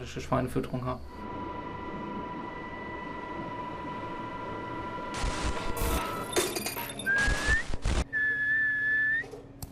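A man whistles to call pigs to feed: two rising whistles, loud and close, stand out near the end over a busy, noisy pig barn background with clattering bursts.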